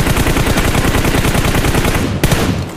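Rapid automatic gunfire in a video game, a loud, dense run of evenly spaced shots that ends in one sharp final crack.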